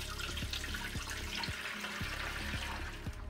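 A pineapple, ginger and lime juice mixture pours and trickles through a strainer into a bowl, a close, continuous liquid splashing with soft rhythmic knocks from the utensils.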